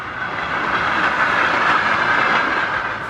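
A train rolling up to a level crossing, a loud continuous rumble of wheels on rails with a rushing metallic hiss that swells slightly toward the middle, close by and with no voices.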